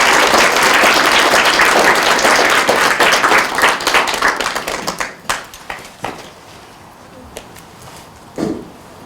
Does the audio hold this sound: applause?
yes